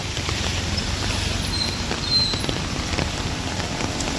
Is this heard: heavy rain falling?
yes